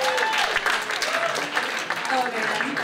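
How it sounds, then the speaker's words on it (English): Audience applause at a stand-up comedy show, a dense broadband patter of clapping filling the room while a performer keeps talking over it. "Can we get a round of applause for Lunchables?"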